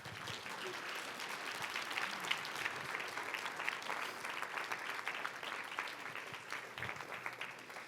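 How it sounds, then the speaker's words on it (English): An audience at a welcoming gathering applauds for a school, producing a dense, steady wash of clapping that holds at an even level for the whole stretch, with a faint voice mixed into the noise. "Let's give them another round of applause."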